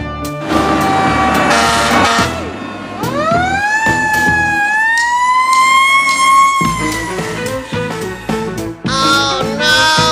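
A toy fire truck wails with a loud, rising and falling electronic siren close by, its tone swooping up and holding before breaking into choppier bursts.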